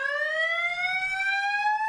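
A loud electronic alarm sounds after a button is pressed, a steady rising siren-like tone that holds for the whole stretch with no talk over it.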